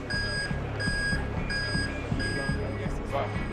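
A station fire panel in evacuation mode at Paddington Station sounds a steady repeating electronic alarm tone in regular pulses, loud and close, with a busy rumbling background.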